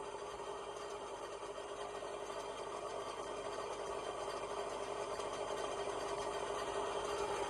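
Small Zippy Sport aircraft engine taxiing slowly in Flight Simulator X, a steady buzzing drone at constant level throughout, with no talk over it.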